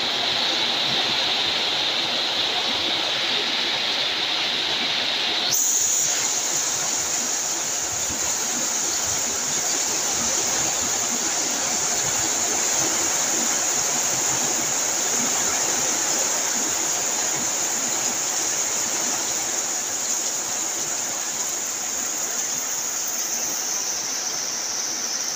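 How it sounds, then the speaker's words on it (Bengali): Heavy rain pours in Chaugachha, Jashore, Bangladesh, with occasional hail. A dense, continuous roar of rainfall holds steady for the whole stretch. No distinct hail impacts stand out, and there is no talk. "মাঝে মাঝে শিলাবৃষ্টি হচ্ছে।"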